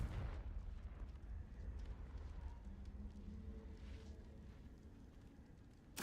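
Fiery Confringo blast spell from a Harry Potter video game, a low rumbling eruption at the start that trails into a steady crackling roar, with a sharp burst at the very end.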